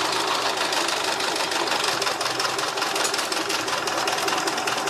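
A sewing machine runs continuously and close up, stitching forward and backward while sewing a bag, with a steady mechanical whirr and no pauses.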